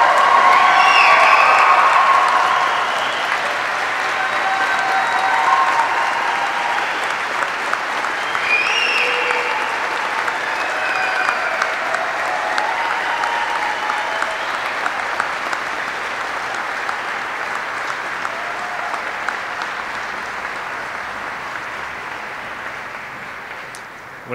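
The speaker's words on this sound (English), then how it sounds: "Please join me in a round of applause for the Army's newest aviation warfighters." A large audience applauds at an Army flight school graduation ceremony, a long, steady wash of clapping that is loudest at the start and slowly tapers, with a few faint whoops mixed in.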